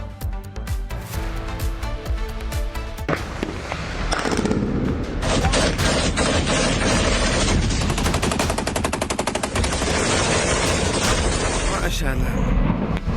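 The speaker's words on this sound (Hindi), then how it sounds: "बॉर्डर पर इस वक्त जंग चल रही है, जहां तहां गोले बारूद फट रहे हैं।" Gunfire and explosions from fighting on the Pakistan–Taliban border: rapid bursts of automatic fire with heavy booms, loud and sustained, mixed with a dense, distorted roar.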